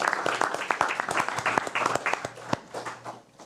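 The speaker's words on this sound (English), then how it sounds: "would everybody please get William a round of applause?" An audience at a fiscal court meeting claps for William in a short burst of applause that rises quickly and tapers off after about three seconds.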